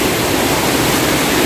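Clear water rushes down Kasabangan Falls in Cabukgayan, a loud, close, steady broadband roar of falling and flowing water with no other sounds.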